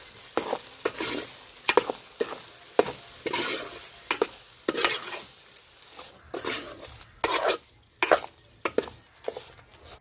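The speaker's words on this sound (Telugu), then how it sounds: "ఇప్పుడు ఇవన్నీ వేసిన తర్వాత కలుపుకుందామండి" A spoon stirs pounded coriander, garlic and turmeric into a sizzling meal maker pulao in a pan, making repeated scraping strokes and clinks over a soft frying hiss, close and irregular.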